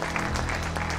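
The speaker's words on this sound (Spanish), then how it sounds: "Démosle otro aplauso de alabanza al Padre." A church congregation claps in praise, with a brief burst of continuous, moderately loud applause filling the room.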